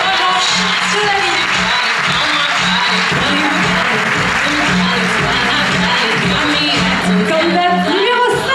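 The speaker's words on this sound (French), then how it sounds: "On peut les applaudir encore une fois" Sustained loud applause fills the hall from the audience at the Miss Côte d'Or 2023 pageant, a dense, even wash of clapping with crowd murmur and some voices underneath.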